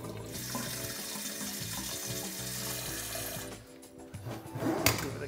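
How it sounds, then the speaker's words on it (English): Tap water runs steadily into a WilliamsWarn Brewkeg for a cleaning rinse, a loud continuous gush for several seconds before it eases off and sloshes and swirls inside the keg, with a sharp knock near the end. "Now what we're gonna do is just give it a little rinse."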